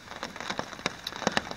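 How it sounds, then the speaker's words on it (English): Rain falls at night at a campsite on a hiking trip along the Appalachian Trail's Taconic loop, a faint, brief spatter of scattered drops pattering irregularly on a nearby surface. "as you can hear, it's kind of raining again"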